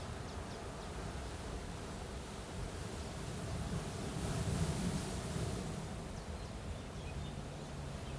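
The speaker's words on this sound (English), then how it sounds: "The sound of waves" Steady surf from ocean waves washing in and out in a broad, continuous hiss, swelling slightly midway, with a faint low rumble and no voices.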